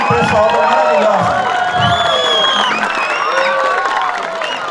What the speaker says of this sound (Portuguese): Eu quero pedir uma salva de palmas para a administração, para o prefeito